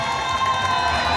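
Crowd at a secondary school alumni generations parade cheering and applauding to welcome the 1981–1984 class, a dense, steady roar of voices and claps close by throughout.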